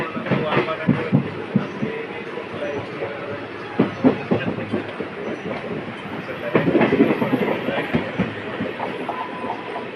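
A train rumbles along the rails with rhythmic clacking and rattling, steady and fairly close, with some voices faintly in the background.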